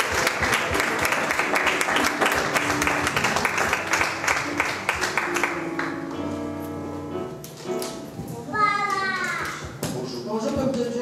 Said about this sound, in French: on acclame très très fort pour le Seigneur